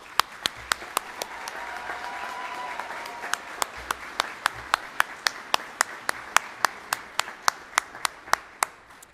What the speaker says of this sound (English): give them a round of applause for working so tirelessly to help you become skilled nurses